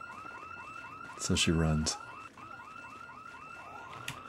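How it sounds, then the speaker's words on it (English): In the video game Project Zomboid, a car alarm wails in a steady repeating whoop pattern throughout, while a voice speaks briefly over it partway through. "She knows the alarm's gonna bring every zombie in town."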